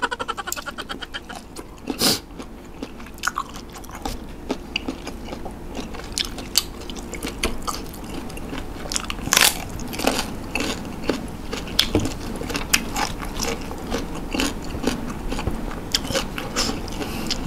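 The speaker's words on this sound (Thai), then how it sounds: "มันเคี้ยวยากนิดนึงมันจะเป็นกรึบกรึบกรึบกรึบตลอดเลยนะครับ" Close-up chewing of crunchy boiled tako octopus tentacle dipped in spicy seafood sauce: persistent wet, rubbery crunches and squeaky bites in an irregular rhythm, loud and near with almost no talking.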